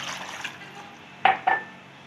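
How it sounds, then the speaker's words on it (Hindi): Water is poured over raw chicken in a home kitchen: a soft, close trickle followed by two short, sharp splashes, with no talking. "उसमें आपने अब पानी डाल दिया।"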